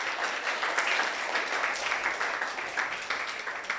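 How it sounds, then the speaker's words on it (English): Audience applause at a bar mitzvah, a steady wash of many hands clapping indoors that holds at even strength throughout without a break. "And give him a round of applause."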